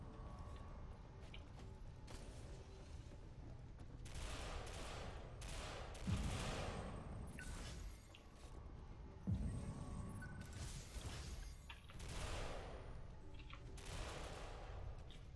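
Automatic gunfire in the shooter game Ghost Recon Phantoms, on a metro map: rapid bursts and scattered sharp shots crackle continuously over a busy game background, with a couple of louder single reports standing out.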